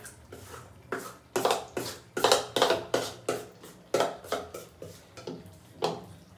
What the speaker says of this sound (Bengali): আর যতবার পিঠে দেবো ততবার কিন্তু আমি ব্যাটারটাকে এইভাবে ফেটিয়ে নেবো